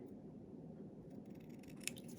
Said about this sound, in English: Then I'm just going to go in and trim it.